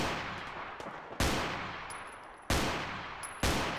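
A modded 10mm pistol in Fallout 4 fires three loud, punchy single shots spaced unevenly apart, each with a booming decaying tail over faint background game ambience.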